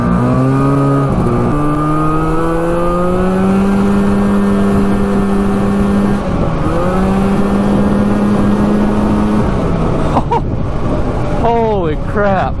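A street-legal 340cc two-stroke trike engine runs at speed, its loud, close buzzing drone rising and dipping in pitch through gear or throttle changes, with wind rush throughout.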